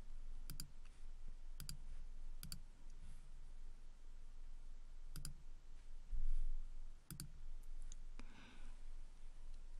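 Sharp mouse clicks while adjusting settings in the Padlet web app, about seven separate clicks spread unevenly across a quiet background with a faint hum.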